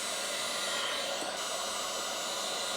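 A heat gun blows on adhesive heat shrink over the engine wiring harness of a Mazda MX5 Miata turbo build, giving a steady, close, airy roar that holds at an even level for the whole stretch.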